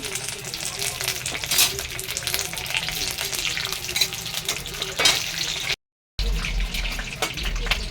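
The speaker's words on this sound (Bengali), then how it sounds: "অল্প একটু কালো জিরা দিলাম, দুটো তেজপাতা, একটা শুকনো লঙ্কা" Nigella seeds, two bay leaves and a dried chilli crackle and sizzle steadily in hot oil in a kadai, with scraping stirs over the bright frying hiss and a brief dropout near the end.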